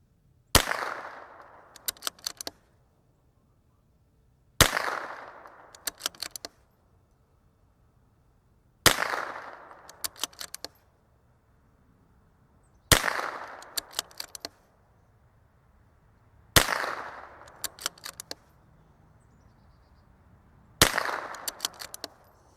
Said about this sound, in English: I'm shooting this fast, but the wind is down, so I'm trying to give this the best chance